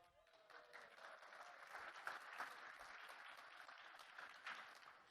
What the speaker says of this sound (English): Pretty sad when a sign-on screen gets applause.